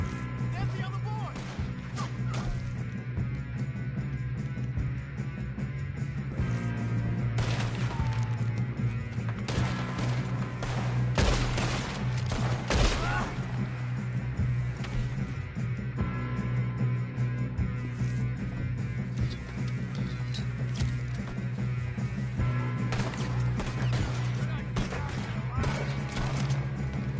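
Gunfire from the video game Red Dead Redemption 2, with scattered shots and a fusillade-like burst near the middle over a steady game soundscape, while voices talk throughout.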